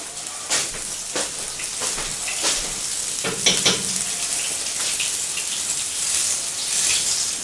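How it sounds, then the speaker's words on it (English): Venison pieces frying in very hot oil, a steady broadband sizzle with scattered pops and crackles running throughout, close and fairly loud with no voices. "And let them fry up"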